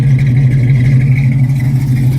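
A 1972 Ford Mustang Mach 1 engine with a solid lifter cam runs close by. It gives a steady, deep, loud idle with a low throbbing rumble and a faint mechanical clatter, and no voices are heard.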